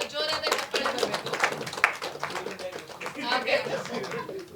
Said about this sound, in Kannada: ಜಗಪ್ಪ ಮತ್ತು ಸುಷ್ಮಿತಾ ಅವರಿಗೆ ಒಂದು ಜೋರಾದ ಚಪ್ಪಾಳೆ ಬರಬೇಕು.